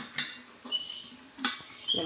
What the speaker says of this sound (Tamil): பால் நல்லா காஞ்சிருச்சு, விசில் வந்துருச்சு, ஆஃப் பண்ணிடலாம்